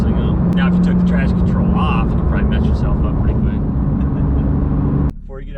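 The engine of a manual Porsche 991.2 GT3 drones steadily from inside the car while driving, loud and continuous, with people talking over it before it cuts to quiet near the end.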